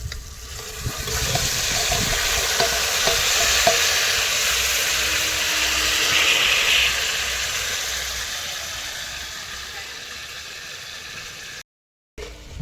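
Mutton frying in a pan with onion and tomato over a wood-fired stove gives a loud, continuous hiss and sizzle with occasional stirring clatter, easing slightly before a brief cut to silence near the end.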